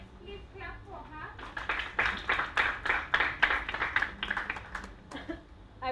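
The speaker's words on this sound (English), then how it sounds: "Let's please clap for her." Audience at a menstrual justice event in East Africa clapping for someone speaker, a steady run of claps building over several seconds with faint voices around it.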